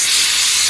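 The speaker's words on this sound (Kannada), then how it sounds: "ನಮ್ಮ ಮಮ್ಮಿ ಫ್ರೈ ಮಾಡ್ತಾರೆ, ಮಟನ್ ಫ್ರೈ" Mutton sizzles loudly in a hot pan up close, a steady bright hiss that runs throughout the brief moment, with a faint stir at the end.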